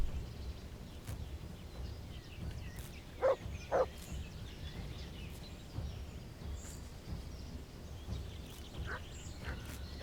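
A wolf in Kingdom Come: Deliverance gives two short, sharp barks against a steady low rumble of game ambience, with faint scattered cries and snarls afterward.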